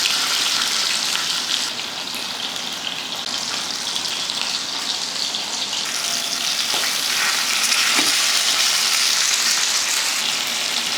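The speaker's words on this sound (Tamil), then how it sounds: "இப்போ மீனை வந்து கல்லில் வச்சிடலாம்." Whole pomfret fish fries on a hot tawa, a loud, dense and continuous sizzle that holds steady throughout with no talking.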